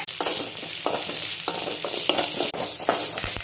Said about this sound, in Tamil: நம்ம வெங்காயம், கறிவேப்பிலை, பச்சை மிளகாய் கொஞ்சம் நல்லா வதக்கி விட்டுடலாம்